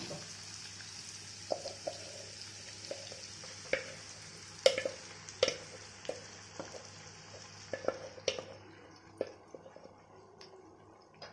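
Gongura chutney frying in a pan while being stirred, a steady soft sizzle broken by a run of sharp scraping clicks and taps from the spoon, close and fairly quiet, with no talking.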